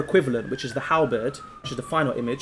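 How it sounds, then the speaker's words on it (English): A police siren wails steadily in the city background, its tone slowly falling, heard faintly beneath someone talking throughout. "Sorry for the sirens in the background."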